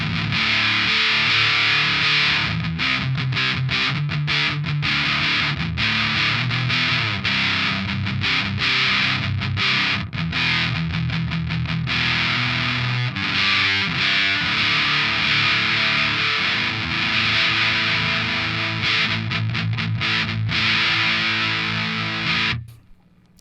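An electric guitar played through an All Pedal Love Machine fuzz pedal with every knob at noon, a thick, saturated tone, chords ringing and chopping in a steady rhythm for over twenty seconds before cutting off.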